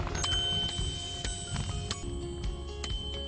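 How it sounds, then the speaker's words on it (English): Bright metallic bicycle bell dings ring out several times in an uneven rhythm, overlapping one another against a low background rumble, in Allegany State Park, New York. "Everybody ring the bells."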